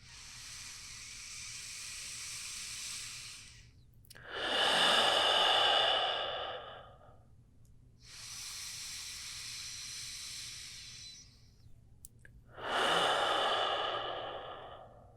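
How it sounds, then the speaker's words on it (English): Four slow deep breaths alternate between a long inhale and a louder, forceful exhale during a seated yoga stretch, close and clear with no talking. "Take a few deep breaths here."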